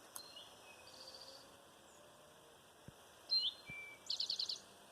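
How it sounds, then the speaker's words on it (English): Birds on the Appalachian Trail give sparse, faint chirps and a short rapid trill of repeated notes, heard at a distance against a quiet outdoor background with no talking. "You can hear the birds."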